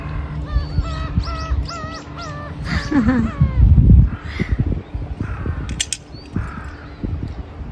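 Crows caw repeatedly over steady outdoor wind and sea noise at the shore, with a burst of flapping and a few higher chirps; no one speaks.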